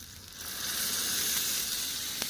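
A hot miniature pan over a wood fire hisses and sizzles, the sound swelling louder after a moment as water hits the surface, then holding steady.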